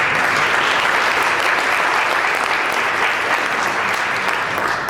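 Audience at an annual tribute event breaking into sustained, loud applause, a dense even wash of clapping hands from many people throughout.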